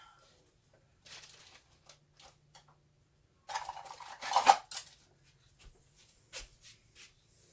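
A spoon clinks against a dish while sunflower oil is mixed for heat transfer soap, with a few light taps early on, then a louder burst of clatter and scraping in the middle and scattered clicks afterward.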